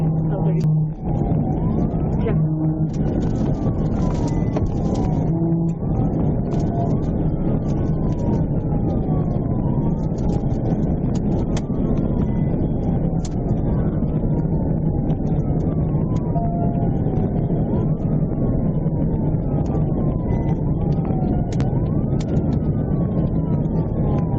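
A police siren wails continuously, rising and falling in repeated sweeps over loud engine and road noise, with speech occasionally under it.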